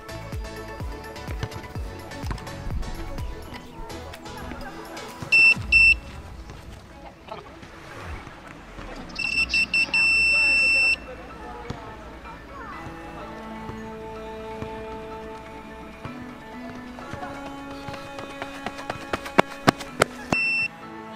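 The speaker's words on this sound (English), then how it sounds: "wait for the buzzer to turn on again, and then you can start your run." An Arduino-built sprint race timing buzzer sounds twice, first in a short tone and later in a longer steady one, over quiet background noise and faint movement.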